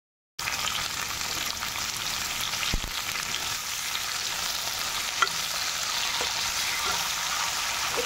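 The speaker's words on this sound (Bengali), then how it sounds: "এবার আমি বেগুনটাও দিয়ে দিচ্ছি, হালকা ভেজে নিচ্ছি" Potato and eggplant pieces frying in oil in a pan, a steady close hiss of sizzling with occasional soft knocks and clicks of stirring, no talking.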